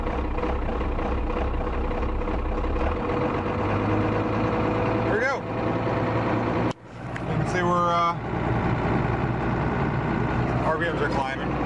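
A 12-valve Cummins diesel idles, then climbs to a raised high idle set by cruise control, a loud continuous engine drone with a brief dip partway through and some clicks and rattles near the end.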